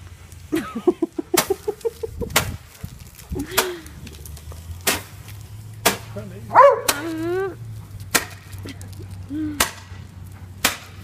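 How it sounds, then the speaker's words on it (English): A dog barks repeatedly in sharp, close bursts, with a few whiny yelps in between, while a person speaks to it at intervals. "Stop barking."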